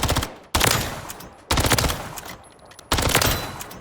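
Three long full-auto bursts from an SMG fitted with a Rival Vice grip in Modern Warfare 3, each a loud, close, steady stream of rounds separated by brief pauses.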